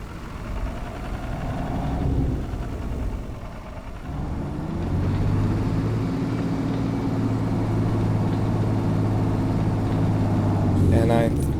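A tractor engine idles steadily with a low, even drone that grows fuller partway through and holds to the end, with a brief burst of noise near the close and no voices.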